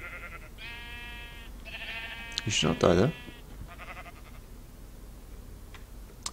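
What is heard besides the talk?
sheep bleating in Minecraft video game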